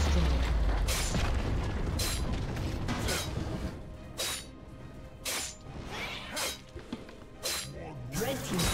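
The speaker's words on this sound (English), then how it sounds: "Red team's turret has been destroyed." A turret being destroyed in League of Legends, heard as a run of sharp crashing and shattering bursts with heavy booms, repeating roughly every second amid dense game effects.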